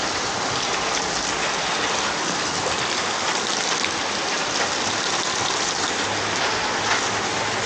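Heavy, unbroken rain pours down during flooding around a parked campervan, a dense, loud, even hiss of drops striking surfaces with no pauses and no voices.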